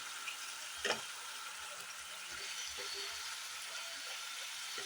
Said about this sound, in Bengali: দেখুন, গ্রেভিটাকে ভালো করে কষিয়ে নিচ্ছি।